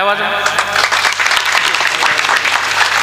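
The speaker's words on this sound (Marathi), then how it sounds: "टाळ्या वाजवा." Audience at a devotional kirtan breaks into loud, sustained applause, dense clapping filling the space throughout.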